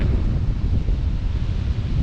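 Steady, blustery wind outdoors in the Welsh countryside buffets the microphone with a constant low roar and rumble, loud and unbroken throughout with no speech.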